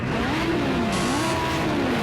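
Race car engines revving together on the starting grid at Fuji in Project Cars 2, Group A cars: a loud, continuous engine drone whose pitch rises and falls in slow waves as the revs build and sync.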